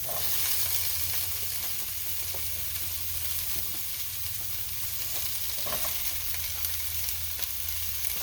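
Onions and squash frying in a pan, giving a steady, dense sizzle that stays loud and even throughout, with occasional faint clinks and no talking.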